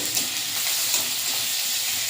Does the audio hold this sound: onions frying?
yes